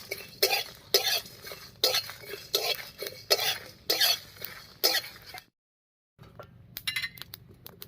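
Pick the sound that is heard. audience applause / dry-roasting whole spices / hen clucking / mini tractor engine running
dry-roasting whole spices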